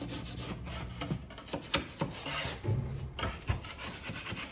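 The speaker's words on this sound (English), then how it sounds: "I'm just scraping it off the edge of my knife." A taping knife is scraped clean of drywall joint compound, giving short, gritty rasping strokes, close and irregular, with no talk.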